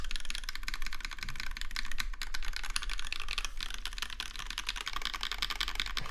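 Dense, continuous clatter of keystrokes on a Satisfaction 75 R2 mechanical keyboard with lubed switches, some alphas clicking, fast steady typing up close with no talk.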